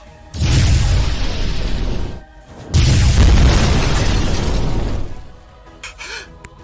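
Two loud, booming cartoon explosion bursts in a row from the animated series The Quest of Winx, each rumbling for about two seconds with a broad noisy roar, followed by faint crackling debris.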